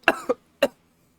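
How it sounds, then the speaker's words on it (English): One person gives a quick burst of three dry coughs, close and fairly loud, with the first two coming right together and the third after a short pause, then silence. "Oh god, I'm coughing."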